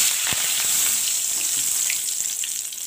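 Bay leaves hit hot oil and caramelized sugar in a pan, giving off a dense, continuous sizzle that fades only slightly toward the end.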